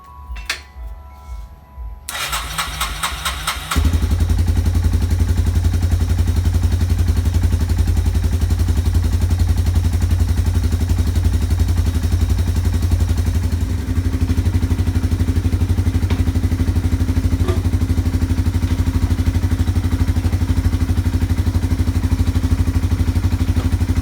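An ATV engine, freshly carburetor-cleaned and running without its body panels, starts after a few clattering cranks and then settles into a loud, steady running drone close by.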